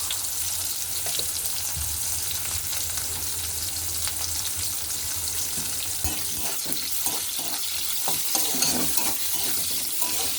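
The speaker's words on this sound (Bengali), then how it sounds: "পেঁয়াজটা সামান্য একটু লাল লাল করে ভেজে নেব" Chopped onion sizzling in hot oil in a pan, cooked for a shrimp and young jackfruit dish, a steady close crackle with repeated stirring scrapes that grow busier toward the end, no talking.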